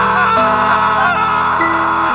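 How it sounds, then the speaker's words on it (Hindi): A loud, sustained scream of terror from a young man rises sharply and holds for about two seconds, close and alone with no other talk. "थियो के मुंह से एक जोरदार चीख निकलती है।"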